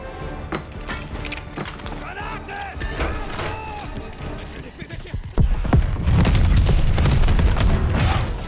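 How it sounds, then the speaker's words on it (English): A grenade goes off in the Call of Duty Vanguard video game, a loud sudden boom partway through followed by a sustained roar of battle noise, with shouted voices and clattering game sounds before it. "Grenade out!"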